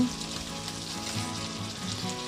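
Fried cauliflower and red lentil dumplings go into a hot wok one by one and sizzle steadily, a close, even frying hiss running the whole time with no talk over it.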